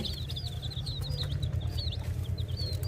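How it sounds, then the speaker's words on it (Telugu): Many high-pitched chicks cheeping continuously and close by, overlapping peeps over a steady low background hum. "కోడి పిల్లలు హాయ్ చెప్పండి."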